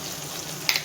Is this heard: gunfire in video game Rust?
no